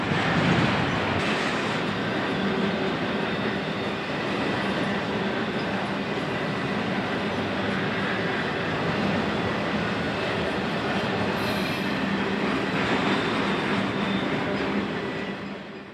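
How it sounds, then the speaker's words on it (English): A freight train passes at Dolton Junction on a busy steel-mill rail line. A loud, steady rumble and clatter of wagons rolls close by without a break for the whole stretch, with no voices. "As the I-003 clears, train M326 departs Bar Yard for Grand Rapids."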